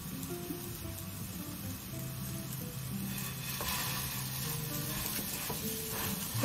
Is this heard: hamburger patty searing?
yes